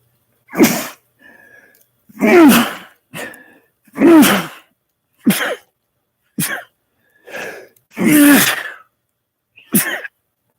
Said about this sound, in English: Sudden sneezes.